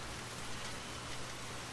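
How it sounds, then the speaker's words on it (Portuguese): Steady rain beating against windows, a dense even hiss with a low rumble underneath, continuous and close with no voices. "o som da chuva batia nas janelas"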